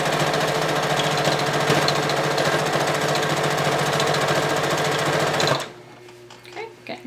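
A sewing machine stitches a blanket, its steady rapid whirring clatter loud and continuous for over five seconds before stopping abruptly, leaving faint handling noises.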